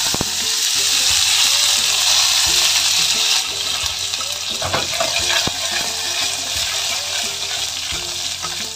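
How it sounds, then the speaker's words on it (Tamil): Mustard seeds, dried chilies and curry leaves sizzle in very hot oil in a pan for a crab curry, a loud, dense, continuous crackling hiss with a few sharper pops. "பேனில் வந்து ஆயில் போட்டுருக்குறேன். கடுகு போட்டுக்கோங்க, காஞ்ச மிளகா லோ பண்ணிக்கோங்க"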